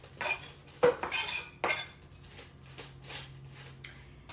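Chunks of smoked sausage tumble into a crockpot for a sweet and sour dish, making a few close, clattering clunks and scrapes spread over several seconds, with quieter rustling between.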